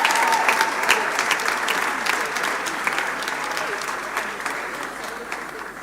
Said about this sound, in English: A round of applause for her as she steps forward.